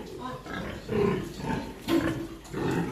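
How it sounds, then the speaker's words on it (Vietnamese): Piglets of about 9 to 11 kg squeal in a farm pen, a busy chorus of overlapping squeals and grunts rising and falling close by, with no talk. "Đây là cái đàn heo con của mình."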